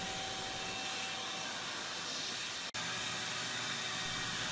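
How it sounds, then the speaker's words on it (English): A router cutter shapes an ogee profile into a solid wood raised panel, a loud continuous whining roar that holds steady throughout with one brief dropout midway. "This is an OG style cut, and this is one of my favorite profiles for a raised panel."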